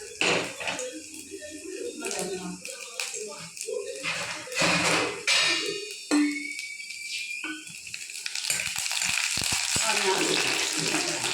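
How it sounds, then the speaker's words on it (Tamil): Garlic sizzles and fries in hot oil in a pan for a Tamil fish curry, a steady crackling hiss that grows louder toward the end, with someone talking over it. "அந்த எண்ணெயில் பூண்டு வேகட்டும்"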